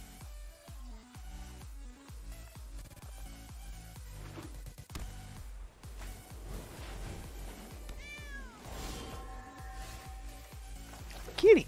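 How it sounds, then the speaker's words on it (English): A cat meows a few times, faint and brief, over steady background game music with a person speaking softly nearby. "Kitty cat. Little kitty gato. Hello, little kitty gato."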